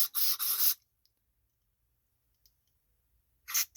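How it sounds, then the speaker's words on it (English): Two short hissing bursts of aerosol carburetor cleaner sprayed into a garden tiller's carburetor, a pause with faint clicks, then another brief spray burst; close and sharp. "So we want to go ahead and spray in every hole."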